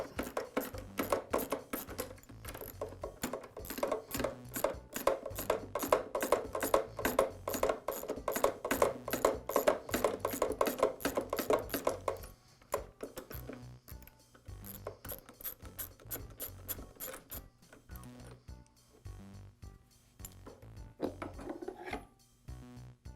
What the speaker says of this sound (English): you just simply remove the nut.